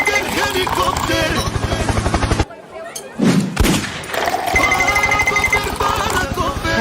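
Helicopter fireworks at a station in India whir and spin loudly with rapid rhythmic buzzing, broken by a brief quieter gap with a couple of sharp bursts before the loud whirring resumes.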